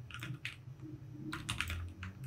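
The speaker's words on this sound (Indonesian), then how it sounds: "kita ketik aja alter table" Typing on a computer keyboard while entering an SQL Server ALTER TABLE command, with close, quick bursts of key clicks in irregular clusters and no talking.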